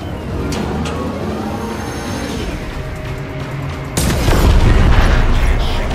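Torpedo explosions in the video game Warframe, a rumbling mechanical din followed by a sudden heavy boom that swells louder and lingers as a roaring blast.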